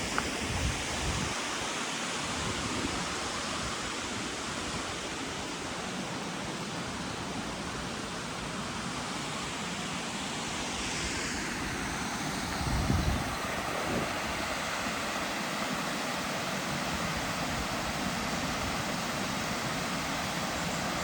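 Water pours over a weir on the river in Rivelin Valley, Sheffield, making a steady, dense rushing roar that stays loud and even throughout, with no voices and a brief low bump near the middle.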